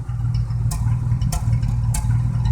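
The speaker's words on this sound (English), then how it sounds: "no doubt the exhaust is rather nice." A vintage Fiat 501 engine runs steadily through its exhaust, giving a low, rhythmic chuffing idle. A few sharp, higher clicks and taps come through over the continuous near, moderately loud running.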